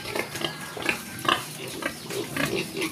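A nine-month-old black native boar pig grunts in a series of short, close, rough snorts and grunts in uneven bursts, with no talking.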